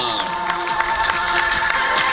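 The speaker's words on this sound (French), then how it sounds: "on les applaudit bien fort encore" A crowd at the Jura Vouglans triathlon prize-giving claps and cheers for the podium winners, a steady mass of applause mixed with voices and background music.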